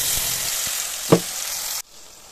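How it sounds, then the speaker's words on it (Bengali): Whole garam masala, cumin seeds and bay leaf dropped into hot oil give a bright, loud sizzle with a short burst of spattering partway through, then the sound cuts off abruptly. "এখন তেলের ওপর গোটা গরম মশলা, গোটা জিরে আর তেজপাতা দিয়ে দিলাম"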